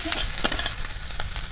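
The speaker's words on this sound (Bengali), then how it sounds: "সব কিছু একসঙ্গে একদম মিশিয়ে নিলাম, মাছ পেঁয়াজ, এবার সবগুলোই একসঙ্গে একদম পুরো ভাজা ভাজা হয়ে যাবে।" Prawns and onion frying together in a pan give a steady low sizzle, with light scraping stirs at irregular intervals.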